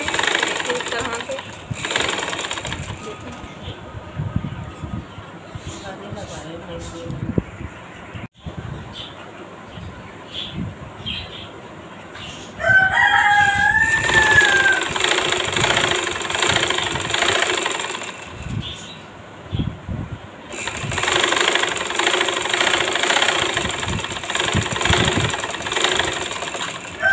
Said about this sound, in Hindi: ये देखिए अब हम इसकी नेफे की सिलाई लगा रहे हैं इस तरह से